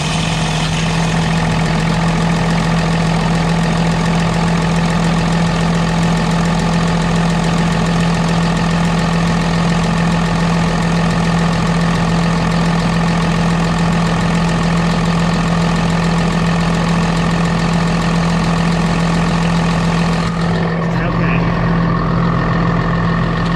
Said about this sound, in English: I'm going to go ahead and start the tractor and see what kind of shower I get out of.